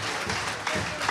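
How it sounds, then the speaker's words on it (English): An audience at an energy forum applauds in a short burst of steady, dense clapping that fills the room. "Give Alexandria a round of applause, if you wouldn't mind."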